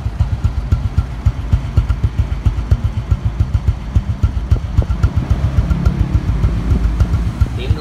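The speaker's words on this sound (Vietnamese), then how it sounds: "cái dàn bô này nổ rất là giòn luôn anh em" A used Honda Wave Alpha motorcycle idles close by. Its engine and exhaust give a steady, rhythmic low thumping that runs evenly the whole way through.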